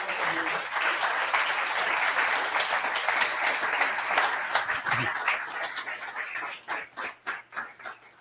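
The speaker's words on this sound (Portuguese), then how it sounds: "Dê um aplauso ao Senhor Jesus." A church congregation claps in praise, a dense burst of applause that thins out into a few scattered, separate claps toward the end, with faint voices mixed in.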